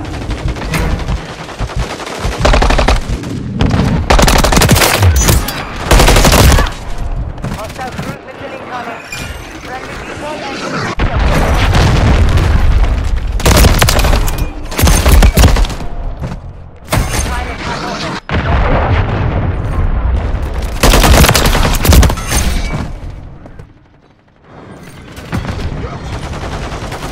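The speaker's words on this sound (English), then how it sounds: "stop shooting him" Modern Warfare 3 video game gunfire: loud bursts of automatic rifle fire and single shots, repeated throughout with brief lulls and booms, mixed with a player's talking.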